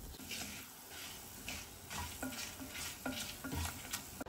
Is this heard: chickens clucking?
no